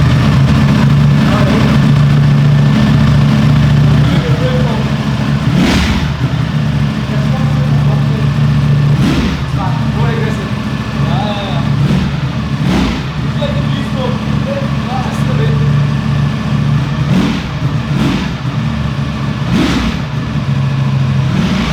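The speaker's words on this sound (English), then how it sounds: "Now start the bike and see the difference" Ducati Streetfighter V4 motorcycle engine running loud and close, with a steady low rumble and repeated sharp revs rising and falling about every few seconds, while people talk over it.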